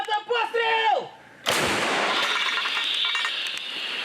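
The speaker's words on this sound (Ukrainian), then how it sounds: "Тож бійці висуваються на вогневу точку і за лічені хвилини наводять гаубицю." A howitzer fired at the front line: one sharp, loud blast that rolls on as a long, rumbling decay, just after a voice calls out.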